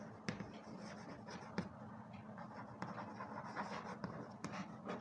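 A pen scratches faintly across paper as a maths solution for a school geometry problem is written out by hand, with soft, irregular strokes and small taps in a quiet room.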